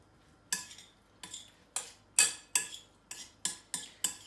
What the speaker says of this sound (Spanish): Vamos misturar tudo aqui.